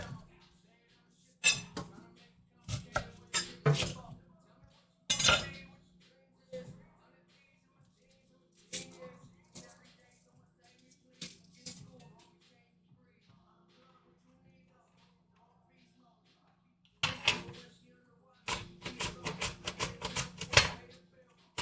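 Shallots being chopped with a knife on a cutting board in a kitchen while making a dressing, with bursts of sharp, rapid knocks separated by quieter pauses.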